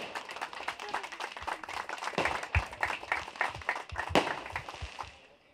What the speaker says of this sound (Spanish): Así que un fuerte aplauso para ella